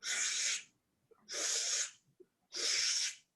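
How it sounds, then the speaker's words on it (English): Three slow, deep breaths drawn in through the mouth during a home yoga session, each a close, airy rush of about half a second with short pauses between. "Through your mouth, take 3 slow breaths in."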